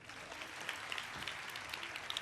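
Faint applause from an audience at an award ceremony, a steady wash of scattered clapping with a few sharper claps standing out, distant and fairly quiet throughout.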